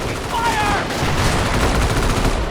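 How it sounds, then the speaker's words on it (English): Sniper rifle shots fired during an XCOM video game match, heard as a dense run of sharp gunfire bursts with game effects, fairly loud and continuous over the clip. "Knights Cross shrugging off the sniper shots"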